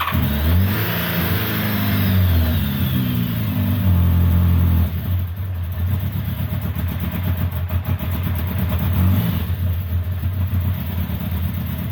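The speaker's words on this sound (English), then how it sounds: "So we now had the motorcycle running, and what a journey that was." A Yamaha FZR 1000 motorcycle engine runs close by, revving up and then settling into a rough, pulsing idle that continues steadily.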